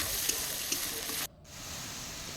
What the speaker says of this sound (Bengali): একটু হলুদ গুঁড়ো, একটু জিরে গুঁড়ো দিয়ে মশলাটা ভালো করে কষিয়ে নেব